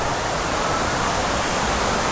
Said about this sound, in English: admire the beauty of that waterfall